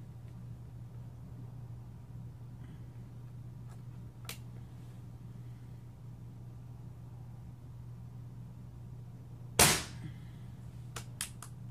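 A Benjamin Maximus air rifle fires a 14.3 grain Crossman Premier hollow point pellet: one sharp, loud crack followed by a quick faint tail and small ticks, against a quiet background with a low steady hum.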